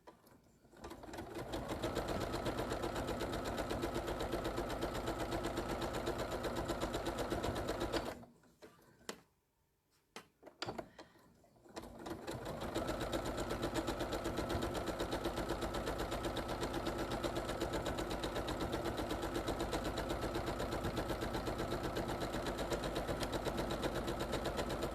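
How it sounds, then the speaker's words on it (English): A sit-down sewing machine stitches wildlife-themed fabric panels in a loud, rapid, continuous whir that runs steadily, stops for a few seconds mid-way, then resumes at full speed. "Are you doing it on the sit-down machine, Rado?"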